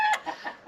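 A backyard hen clucks after laying an egg, giving a quick series of short, close, moderately loud clucks in a broken rhythm, with no talking.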